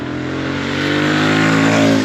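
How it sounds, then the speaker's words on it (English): A Royal Enfield Meteor 650 motorcycle's combustion engine runs in a steady, smooth drone that builds slightly over two seconds, loud and close, with no one talking. "Yet you know that you're on a proper combustion engine type of bike."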